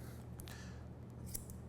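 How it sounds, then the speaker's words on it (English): Scissors snip through lifted sections of hair during a textured crop haircut, a few soft, close blade closes spaced apart over a quiet hum of the room. "I'm basically just picking up hair and cutting it"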